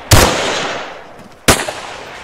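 Two loud, sharp gunshots about a second and a half apart in the Arma 3 Breaking Point game mod, each decaying into a faint echo, with no voices.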